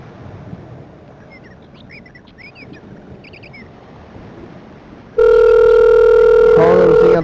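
A phone call to a McDonald's in Selbyville, Delaware: a quiet, noisy line with faint dial tones gives way to a loud, steady ringback tone that holds to the end.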